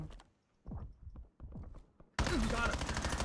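Cannon in Black Ops 7's co-op campaign endgame mode, firing a sudden loud, sustained blast after a stretch of quieter thumps and movement sounds.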